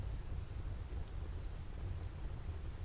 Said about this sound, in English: the hush of the falling rain